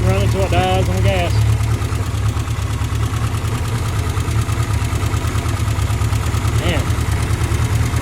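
A 1970 MG Midget engine runs without its radiator hooked up, idling loudly and close with a steady throbbing pulse, while a voice talks briefly over it near the start.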